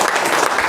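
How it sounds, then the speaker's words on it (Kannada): Loud, dense audience applause fills a short moment at a retirement felicitation ceremony held by an Om Shanti group, steady clapping from many hands with no talk over it. "ಜೋರ್ ಚಪ್ಪಾಳೆ ಬರಲಿ"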